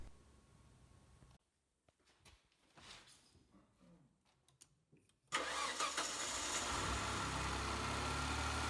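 An XM car engine cranks and fires after a short near-silent stretch, then settles into a loud, steady running roar close by. Earlier there are quieter scattered workshop sounds.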